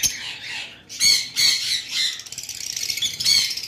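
Lovebirds kept as high-mutation pairs for sale squawk in close, sharp, shrill bursts, with several loud calls followed by a rapid chattering run.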